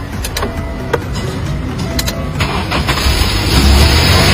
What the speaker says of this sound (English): Come on, start up. Look, start smoothly.